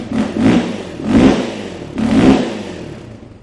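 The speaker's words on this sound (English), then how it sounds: "we need to get a little exhaust blip" A motorcycle engine in a shop, still cold, gives three loud exhaust blips at an even spacing, each rev swelling and falling back to a rough idle between them.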